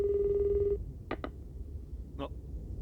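A cell phone rings in an anime episode, a steady electronic tone followed by short bursts of ringing, heard alone at moderate volume.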